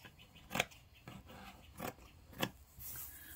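Scissors cut through fabric for a cloth-covered junk journal, three or four distinct close snips spaced about a second apart, with quiet rustling of cloth between them.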